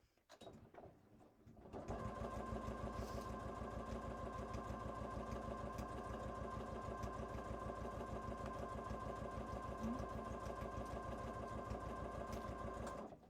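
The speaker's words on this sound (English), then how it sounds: "I'm going to top stitch along the top like I have been through all the layers" A sewing machine runs steadily, top stitching through the layers of a cross body bag, a fast even mechanical chatter that starts after a brief pause and continues close and unbroken.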